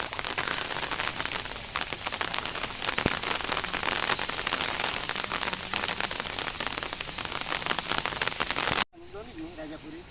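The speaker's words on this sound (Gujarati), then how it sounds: "અહીં આવ્યા એટલે વરસાદ ખૂબ જોરમાં સ્ટાર્ટ થઈ ગયો હજુ પણ વરસાદ સ્ટાર્ટ જ છે" Heavy rain pouring down steadily outdoors at a mango sapling home business in Vansda, a loud dense wash of drops drumming on surfaces, with a voice talking briefly near the end after a short break.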